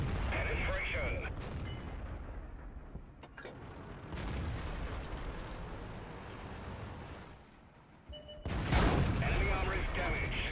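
Tank cannon shots in World of Tanks, firing at an enemy tank, come as sharp broadband booms at the start and near the end, with a rumbling battle bed in between and a brief quiet dip before the final loud blast.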